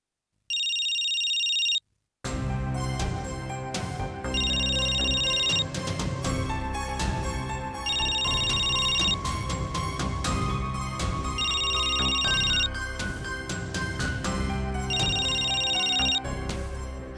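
A phone ringtone plays in repeated electronic bursts, loud and close, each ring lasting about a second with short gaps, looping steadily after a brief pause at the start.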